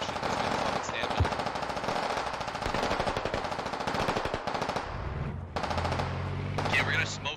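Automatic gunfire in the military shooter game Squad, heard as dense, rapid bursts of rattling shots that run almost continuously, with a brief lull near the end and a voice talking over it.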